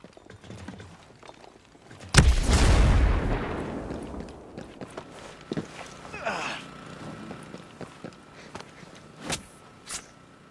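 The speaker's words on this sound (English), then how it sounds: "Throwing a grenade." A grenade detonates in the tactical shooter Ghost Recon Breakpoint, a loud, sudden blast followed by a long, rumbling decay, then scattered gunshots and footstep-like thuds as the fight continues.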